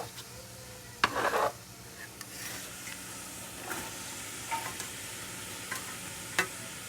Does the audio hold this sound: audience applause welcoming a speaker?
no